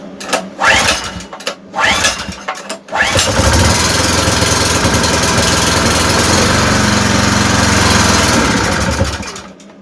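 A 2.8 kW petrol generator that misfires and struggles to start is pulled over a few times in short bursts, then catches and runs with a loud, steady close drone that fades slightly at the end.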